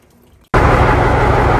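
After a brief quiet moment, diesel fuel suddenly gushes out in a loud, steady splashing stream while the fuel system is bled, continuing without pause.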